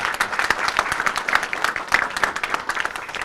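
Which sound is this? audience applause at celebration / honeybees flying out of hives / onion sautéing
audience applause at celebration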